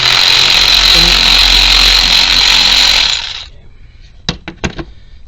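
Impact wrench with a 19 mm socket removing a starter bolt on a Nissan Versa 1.8, a loud sustained buzzing rattle for about three seconds that cuts off, followed by a few metallic clinks.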